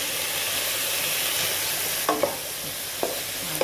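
Courgettes frying in a pot with Moroccan-style meatballs give a steady, close sizzle, broken by a few short clinks or stirring knocks toward the end, with no talking.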